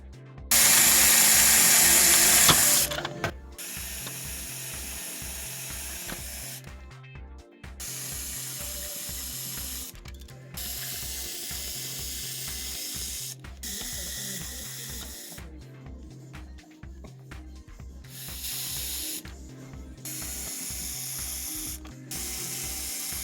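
A small cordless screwdriver drives screws in repeated bursts: rapid ratcheting clicks and motor whir, separated by short pauses, with a louder, harsher burst at the start.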